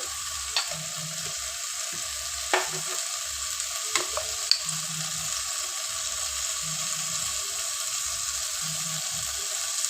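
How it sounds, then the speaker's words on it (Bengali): A pan sizzles steadily as spices such as ground turmeric are stirred into frying food, with a low bubbling undertone and occasional spoon scrapes and taps, close up and with no voices. "এটা নাড়াচাড়া করতে করতে আমি এর মধ্যে দিয়ে দেবো হলুদ গুঁড়ো"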